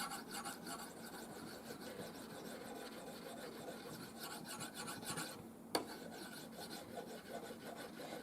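Blade edge rubbed across a banded jasper whetstone to remove the burr, a faint, continuous dry rasping scrape in repeated strokes, with a single sharp click near the end and no talking.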